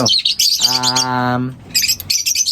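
Close, busy bird chirping and tweeting, with one long, steady whistled call in the middle before the chattering resumes.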